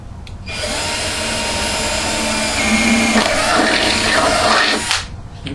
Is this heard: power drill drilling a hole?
yes